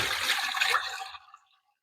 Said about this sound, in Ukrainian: Ми її гарно промиваємо, стіжуємо воду.